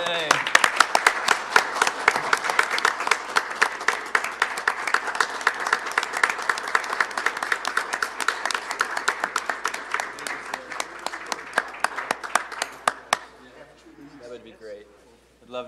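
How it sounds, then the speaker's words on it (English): Applause from the audience at a Village of Bartlett board meeting, dense steady clapping for about thirteen seconds, then thinning into scattered claps and fading under quiet room murmur. "How about a round of applause for Mark?"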